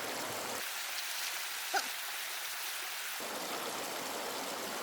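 Water rushing through a GoldenHart prospecting power washer mounted on a bucket classifier, a steady close hiss and splash of flowing spray that holds constant, with a brief faint knock partway through.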